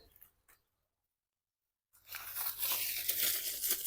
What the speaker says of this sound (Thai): เอากระดาษห่อ